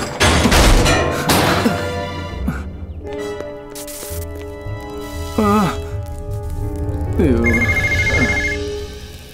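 An animated cartoon telephone rings in bright repeated electronic bursts, loud and near, among crashing cartoon sound effects and musical tones.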